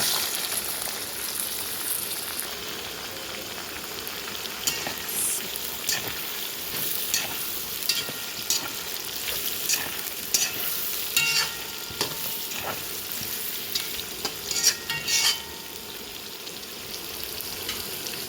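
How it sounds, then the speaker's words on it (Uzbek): Onions and carrots fry in a pan for a macaroni pilaf, giving a steady, close sizzle with scattered crackles and stirring clicks throughout, and no voices. "Buni oltin rangga kirguncha qovurib olamiz piyozni"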